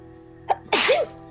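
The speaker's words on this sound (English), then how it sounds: "bless you" A single loud sneeze during a tabletop role-playing game session, a quick sharp intake followed by one forceful burst, close and clear with no talking over it.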